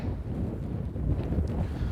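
Steady wind buffets the microphone on an open golf course, a constant low rumbling roar with no voices.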